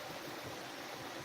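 A river in Beceite, Teruel rushes in a steady, even broadband wash, continuous and close, with no voices or other sounds breaking through.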